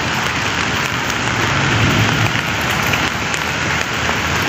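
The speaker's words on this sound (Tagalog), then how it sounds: "So, umuulan today." Steady rain falls on a cold day in Hong Kong, a dense continuous hiss of drops on surfaces filling the whole stretch, fairly loud and close with no voices over it.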